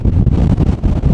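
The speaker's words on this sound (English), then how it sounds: "it is incredibly windy up here" Strong, steady wind roars and buffets the microphone on a Rocky Mountains hike above 10,000 feet, with low rumbling gusts that rise and dip throughout, no voices.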